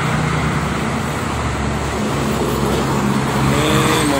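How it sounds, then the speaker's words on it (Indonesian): Dense traffic of private cars and buses on the Jakarta-Cikampek toll road in the afternoon, a continuous loud broadband roar of engines and tyres with no individual vehicle standing out. "Ini mobil-mobil pribadi kebanyakan sore ini ya, sama bis."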